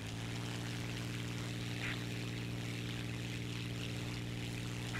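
A jet aircraft engine roars steadily with afterburner engaged in the game War Thunder, a constant close drone with a deep hum and a broad rushing hiss, no talk and no breaks.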